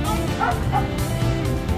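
Rescue dogs barking during a Japanese municipal disaster prevention drill, a few yips and barks mixed into a busy outdoor scene with background noise and people's voices.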